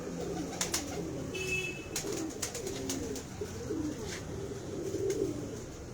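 Pigeons in a fancier's loft of high-flying racing birds coo in soft, rolling phrases that repeat throughout, faint and steady over a low background hum.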